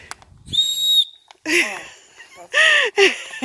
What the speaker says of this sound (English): Like a signaling whistle.